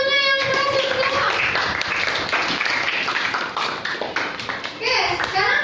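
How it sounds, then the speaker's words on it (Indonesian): Students in a classroom clap together for a classmate's correct answer, a dense, loud patter of many hands that fills the room, with voices talking over it. "Tepuk tangan dulu buat temannya yang berhasil menjawab."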